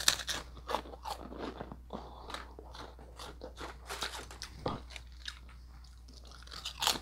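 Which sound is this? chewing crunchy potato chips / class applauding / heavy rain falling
chewing crunchy potato chips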